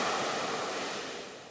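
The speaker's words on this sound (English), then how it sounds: "surrounded by nothing but the relentless ocean." Open ocean heard from a rowing boat at sea on a crossing toward Antigua, a broad steady wash of surf and wind noise, loud and close, slowly easing.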